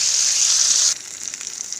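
Koi fish frying in hot oil, a loud dense sizzle that holds steady, then drops abruptly to a softer crackling hiss for the remaining moment.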